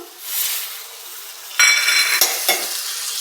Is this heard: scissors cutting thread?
no